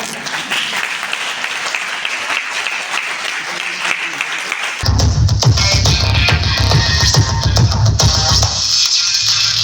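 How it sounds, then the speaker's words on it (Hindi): Audience applause at a Hindi business motivation seminar, steady crowd clapping that grows louder and fuller halfway through, joined by a low boomy rumble, with speech mixed in. "ताली बजा लीजिए"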